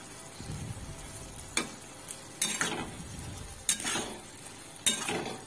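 Egg and Maggi masala noodles stirred in a pan, with a low sizzle under a handful of sharp clinks of a utensil against the pan at irregular intervals, close by and moderately quiet.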